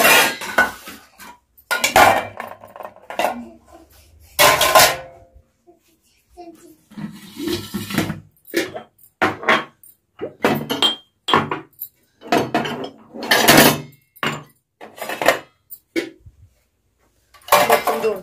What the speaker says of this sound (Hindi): बर्तन उठा के बर्तन टोकरी में जोड़ के रख देव।